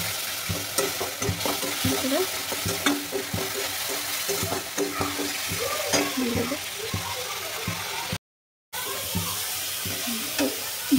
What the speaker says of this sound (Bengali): একটু ভাজা ভাজা করে নেব মশলাটাকে